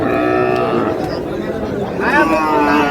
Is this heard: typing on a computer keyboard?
no